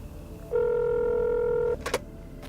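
A recorded phone call opens with a single long, clear telephone tone lasting about a second, followed by a brief burst of line clicks and noise.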